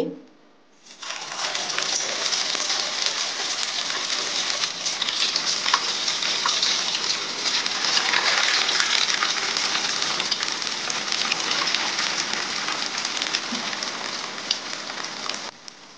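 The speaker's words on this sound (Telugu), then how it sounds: "ఇలా ఆయిల్ అయితే పెట్టుకొని మీడియం ఫ్లేమ్లో పెట్టుకొని ఒక్కొక్కటి నిదానంగా ఫ్రై చేసుకోండి" Maggi cutlets frying one at a time in oil over a medium flame, giving a steady, dense hiss and crackle that runs without a break from about the first second to the end, with no talking over it.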